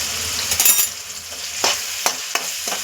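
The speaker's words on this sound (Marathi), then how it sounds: "तेलामध्ये एकदम व्यवस्थित हे सगळे मसाले आपण परतून घ्यायचे." Dry spices such as turmeric, coriander powder, goda masala and red chilli powder sizzle in hot oil with vegetables for street-style tawa pulao, with a steady fry broken by several sharp scraping stirs of a spoon against the pan.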